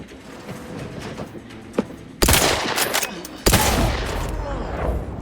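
Gunfire in the Outer Worlds 2 video game: light mechanical clicks give way to two sudden, loud bursts of rapid shooting that ring out and tail off.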